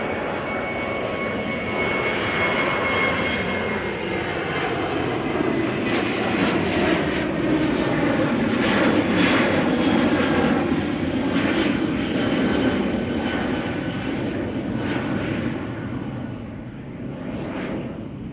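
Steady, loud roar of an Airbus A330 airliner's jet engines departing Schiphol, broadband and continuous throughout, with a faint rising whine layered on top.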